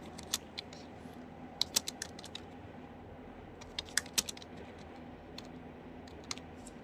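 Keys clatter on a computer keyboard while text is typed into MS Word, the bursts of quick, light clicks irregular and close against a quiet room hum.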